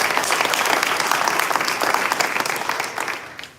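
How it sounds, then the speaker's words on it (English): Audience members at a State of the North County address break into a short round of applause, dense close clapping that holds steady for a few seconds before quickly tailing off. "I heard an applause"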